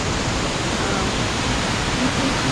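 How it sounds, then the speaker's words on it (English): Waterfall at Natural Bridge in Springbrook National Park, heard as a steady, full roar of rushing water filling the scene with constant broadband noise and no pauses. "You can see the waterfall through the rocks."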